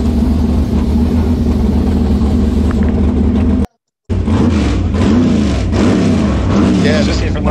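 Someone's nitrous Real Street drag race car roars with a loud, rumbling engine at high revs, held steady, then cut off briefly by a gap of silence before resuming with surging revs and people talking over it.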